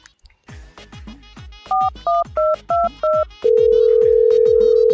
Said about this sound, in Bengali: আচ্ছা দেখি একটা বন্ধুরে ফোন দিই